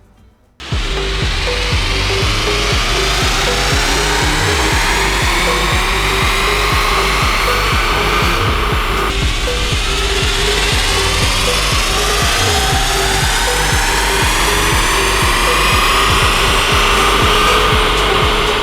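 A tuned VW MK8 GTI on a Stage 1 E85 setup runs up on a dyno, a loud, sustained engine roar that climbs steadily in pitch as it pulls toward peak power, with a brief dip midway before rising again.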